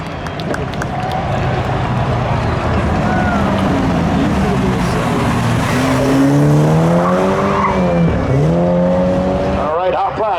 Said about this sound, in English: it'll be the Camaro taking out the Farfig Hoonigan